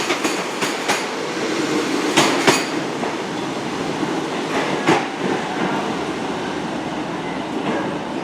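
A Great Western Railway passenger train from Bristol Parkway to Penzance pulls into Plymouth station. Steady rolling rumble with sharp wheel clicks and clacks over the rail joints, fairly close and loud, with no voices.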